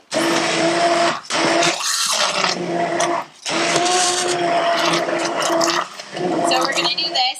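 A blender purees roasted tomato soup ingredients with no added liquid, whining loudly in several long bursts with short pauses between them.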